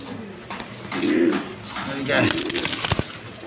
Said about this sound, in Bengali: আপনার কালদম কবুতর, ইন্ডিয়ান কালদম দেখেন।